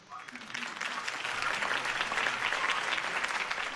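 A video-game crowd applauds after Harvey Dent's campaign speech, a broad wash of clapping that swells in the first half-second and holds steady and full to the end.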